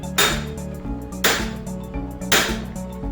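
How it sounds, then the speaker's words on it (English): Three heavy metallic hammer blows on a Vauxhall Grandland front wheel bearing land at a steady pace, each ringing out briefly, close and loud against a background hum. "follow up with a few control swings of the hammer"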